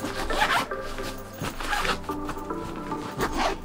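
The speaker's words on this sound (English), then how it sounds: "And they've got this little compression zipper on the side." A zipper on an Eagle Creek packing compression cube is pulled in several quick, raspy strokes with short pauses between them, close and fairly loud, with no talk.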